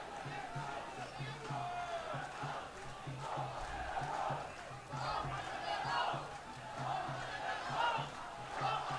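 Crowd at a schools rugby match between Isipathana College and Trinity College at CNFC: a continuous loud roar of cheering and rhythmic chanting that swells and dips throughout.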